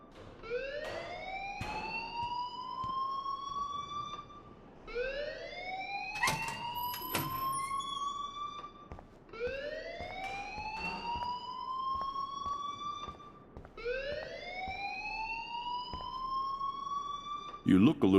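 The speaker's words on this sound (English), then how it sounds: "please turn off that alarm since that's your job" Fire alarm blaring inside the school in the video game Life Is Strange: a rising electronic whoop that repeats in four long sweeps, loud and continuous, with brief sharper clanks scattered between the cycles.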